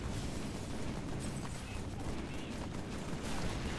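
A dense, continuous roar of gunfire bursts from a modded gun in Halo 3 that sprays dirt, loud and unbroken throughout with no clear gaps.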